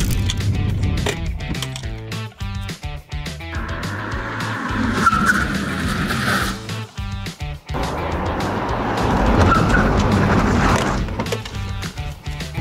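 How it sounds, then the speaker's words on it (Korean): A Porsche brakes hard from 70 km/h on test pads, its tires squealing and skidding in long, loud bursts over the low rumble of the car's engine and road noise, with no talking. "PS12를 한번 테스트 주행을 해보면서 브레이크 테스트 해볼게요."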